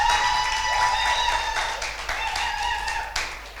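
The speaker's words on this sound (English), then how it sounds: "give her a round of applause first" Applause for the Commissioner for Education of Lagos State, steady crowd clapping that fills the clip at moderate level, with faint voices mixed beneath.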